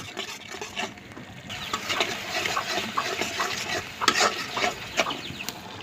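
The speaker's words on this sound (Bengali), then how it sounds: "এই যে মশলা কষান হচ্ছে, তেল ছেড়ে দিছে" Spices being sautéed in oil for prawn dopiaza, a lively close sizzle broken by repeated scraping strokes of a spoon against the pan in an uneven rhythm; no talking.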